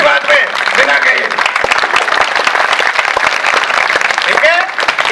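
A school audience claps in steady, dense applause that fills the whole stretch, loud and close, with voices talking over it.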